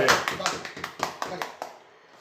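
A burst of clapping from a crowd, irregular and fairly close, fading out after about two seconds.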